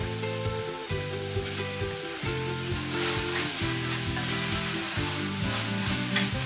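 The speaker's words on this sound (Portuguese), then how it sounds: "fritando a carne já. Vamos colocar a cebola agora." Meat and onion fry in a pan with a loud, steady, close sizzle, and the crackling carries on throughout with occasional stirring and no talk.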